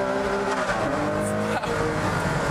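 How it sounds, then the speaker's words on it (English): Ferrari Enzo V12 engine revving hard at close range from inside the car, a steady, rising harmonic roar with a brief dip and automatic downshift blip partway through, with no talking. "you get that lovely V12 engine behind you, the blip of the down change that comes automatically"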